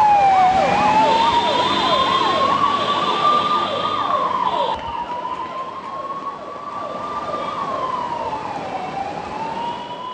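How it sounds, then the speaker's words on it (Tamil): An ambulance siren wails continuously with repeating rising-and-falling sweeps over steady road traffic noise, loud and close throughout as the vehicle carries donated organs through Chennai city streets to a hospital in Adyar. "லோகநாதனின் உடல் உறுப்புகளை தாங்கிய ஆம்புலன்ஸ் போர் நினைவு சின்னம் அண்ணா சமாதி சாந்தோம் மந்தவெளி வழியாக அடையாறு மருத்துவமனைக்கு எடுத்துச் செல்லப்பட்டது."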